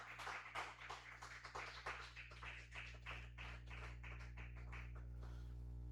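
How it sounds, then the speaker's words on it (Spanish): Church congregation clapping in praise during a Spanish-language service, a quiet, somewhat distant patter of claps over a steady low hum, the rhythm growing more regular before thinning out. "Dale fuerte el aplauso a nuestro Dios."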